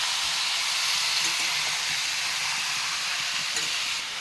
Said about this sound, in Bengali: তার আগে গরম কড়াইতে ফার্স্ট মাংসগুলো দিয়ে দিই।